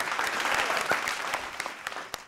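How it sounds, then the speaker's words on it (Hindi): A comedy show audience applauds for a stand-up comedian, a lively burst of clapping that thins into a few scattered louder claps near the end. "तालियां।"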